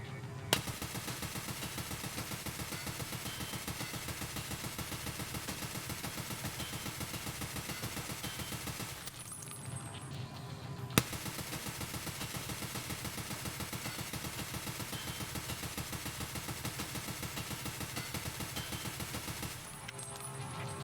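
Rapid automatic gunfire from 5.45 rifles on a firing range in Escape From Tarkov, long sustained bursts at a steady fast rhythm, broken by two short pauses, with no talking.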